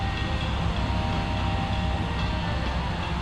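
Steady rumble of an electric commuter train on Bangkok's Red Line rolling along rails near Don Mueang station, continuous and close, with a constant rushing mechanical roar and no voices.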